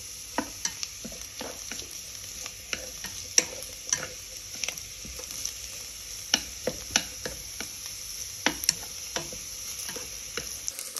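White radish is stir-fried in a pot, with a soft continuous sizzle broken by irregular sharp clicks and scrapes of a utensil against the pot, and no talking.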